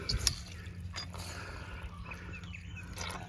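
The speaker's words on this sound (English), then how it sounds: "I just wanna show you guys how bad this thing's leaking." Water leaks from the stem of an old plumbing valve while the shut-off system is still pressurized, giving a faint, steady drip and hiss with a brief splashy burst at the start.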